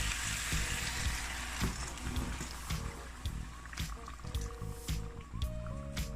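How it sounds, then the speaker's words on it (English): A cup of boiling water poured into a pot of seasoned Jamaican steamed fish, giving a soft gurgling splash and hiss of liquid meeting the hot pot, fairly quiet with faint clinks. "I'm gonna go on in with 1 cup of boiling water"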